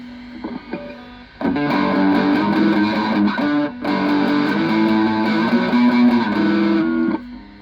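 A heavily distorted electric guitar through a Blackstar LT Distort pedal plays loud sustained chords after a few quieter plucked notes, with a brief gap partway through, no voices.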